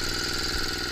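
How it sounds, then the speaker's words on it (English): A Tecumseh 5-horsepower small engine runs steadily on a homemade power wheelbarrow built from snowblower parts, a loud close continuous buzzing drone with no voices. "It's a Tecumseh 5-horse engine, so it's pretty easy to find."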